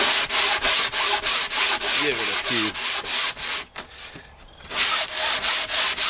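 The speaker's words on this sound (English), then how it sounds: "we're going to take our sanding block and just give it" Rhythmic back-and-forth rubbing of a sanding block on styrofoam, close and loud, pausing briefly midway before the strokes resume.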